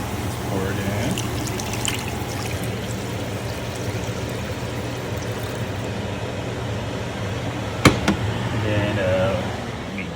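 Vegetable broth pours into a pan as a soft, continuous liquid trickle under kitchen background noise, with a sharp clunk near the end and a voice speaking nearby.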